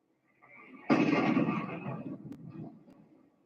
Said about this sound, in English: Wow, big explosion.